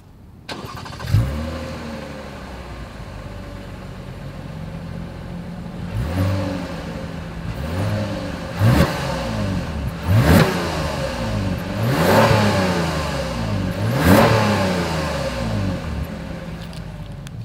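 A 2021 Toyota Camry V6 engine starts, then its exhaust is revved repeatedly, several rising roars and drops to idle, close and loud.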